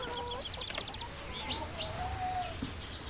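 Hens cluck and call in soft, scattered bursts over a steady background hum, with a few higher chirps mixed in.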